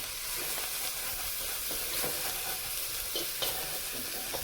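Chicken sizzling and frying steadily in a wok, a continuous close crackle with occasional stirring scrapes and no talk.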